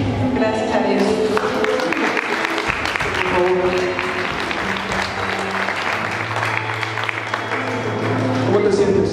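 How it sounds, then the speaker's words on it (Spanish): Church congregation applauding during a Spanish-language liberation service, clapping continuous and dense under sustained music throughout, with a voice faintly present. "Denle un fuerte aplauso al Señor Jesucristo."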